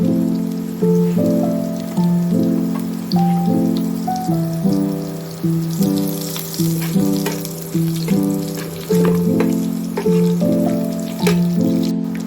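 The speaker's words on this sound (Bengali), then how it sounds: "রসুন লঙ্কা সব সুন্দর ভাজা ভাজা হয়ে গেছে" Garlic and green chilies fry in hot oil, a continuous sizzling crackle heard close up beneath a repeating musical tune, with no talk.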